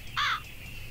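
A bird in the video game Genewars gives a single loud, harsh caw that lasts a fraction of a second, alone over a low background hum.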